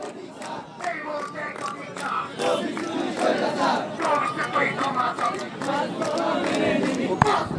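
Crowd of students from seven government colleges chanting slogans at a street protest at the Science Lab intersection in Dhaka, a dense mass of voices with rhythmic shouted bursts, steady and loud throughout.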